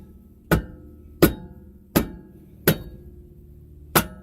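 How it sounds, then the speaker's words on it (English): Rubber mallet striking a brake rotor on an Evo X to break it loose: five dull, separate thuds spaced roughly evenly, close and fairly loud, with no talk. "now depending on how long your rotor's been on here, you may need to take the rubber mallet"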